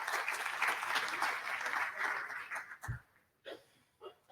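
Audience applause for a speaker at a networking research conference, a steady round of clapping that fades out after a few seconds, followed by a few faint scattered sounds in a quiet room.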